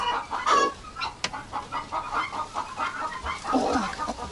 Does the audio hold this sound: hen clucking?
yes